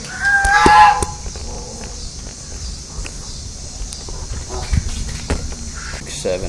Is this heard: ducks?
yes